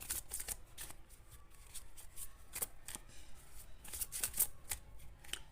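Tarot cards are shuffled and drawn by hand, giving crisp papery riffles and flicks in quick irregular bursts, close and fairly quiet with no talking.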